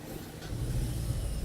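A semi tractor-trailer truck's engine rumbles steadily close by, a low, continuous drone with slight swells in intensity and no voices over it.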